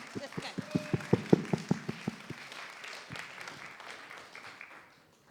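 A small audience at a Black History celebration event claps in a quick, sharp run of about a dozen beats, then fades into murmuring and a voice.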